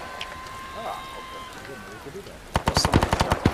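Rapid bursts of automatic gunfire from the military shooter Arma 3, a fast string of sharp close shots ending the stretch after quieter moments with radio-like voices.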